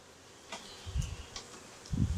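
Honey bees buzz around a beehive in short, intermittent bursts as individual bees fly close by, quiet between passes, with faint outdoor rustling behind.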